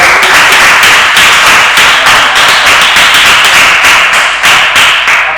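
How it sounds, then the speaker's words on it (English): A storytelling masterclass audience breaks into a round of applause, dense, steady clapping that stays loud and even throughout without any voices over it. "Round of applause for"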